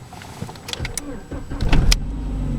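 A VW Passat B5 engine cranks with a few short whirring bursts, then catches and settles into a steady close idle, with a voice briefly heard.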